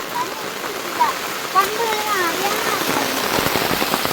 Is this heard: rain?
yes